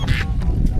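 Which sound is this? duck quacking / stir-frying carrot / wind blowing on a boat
duck quacking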